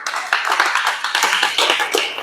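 A live audience claps at a gathering, a dense run of overlapping handclaps that holds steady and fairly loud for a couple of seconds with no talking.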